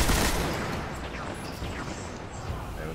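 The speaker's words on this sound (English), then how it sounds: "And I'm getting sniped." Gunfire in a shooter video game, with dense, continuous booming shots and a loud burst at the start, then sustained rattling fire over rumbling low-end noise.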